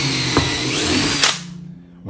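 A power drill whines steadily at close range while drilling holes through a jig in a Ford Transit camper van build, its pitch shifting as the bit bites, then the motor winds down and stops.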